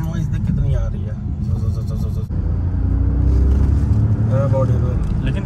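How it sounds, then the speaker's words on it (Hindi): Tire and road rumble inside a moving Citroen C3 Aircross, a steady low droning roar filling the cabin, with someone talking over it. "ये टायर नॉइज देख कितनी आ रही है"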